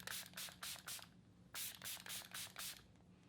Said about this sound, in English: I'm gonna use the Bella Beauty Bar Dewy Glow setting spray.